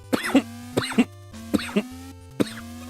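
A man coughs after inhaling the wrong way, four short bursts of coughing and throat clearing, close and sharp, separated by brief pauses over a steady electronic hum.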